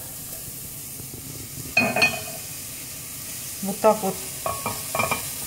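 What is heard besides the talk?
mushrooms frying in a dry pan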